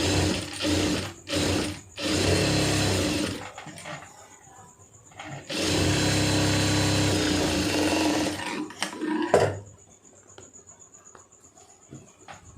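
A sewing machine stitches around the lining of a blouse in short bursts, its motor whirring and needle rattling in two longer runs with brief pauses between them, close up, then quiet ticks as it stops.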